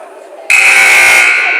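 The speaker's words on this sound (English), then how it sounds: "First buzzer's already sounded" A loud, sustained electronic buzzer at a basketball game blares suddenly after a quiet moment and holds steady to the end.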